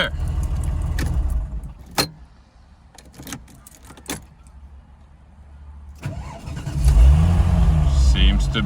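A Porsche 996 GT3 with a fuel pump problem cranks, then catches with a sharp crackle; a quieter stretch with a few clicks follows before the engine settles into a loud, rumbling idle that swells near the end.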